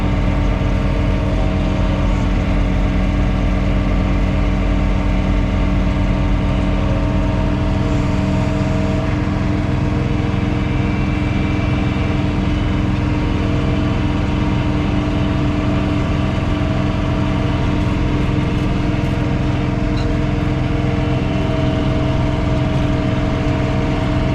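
John Deere 3 Series tractor running a front snow blower through heavy snow, a steady, loud, continuous engine drone with whirring blower noise that holds level throughout, with no talking.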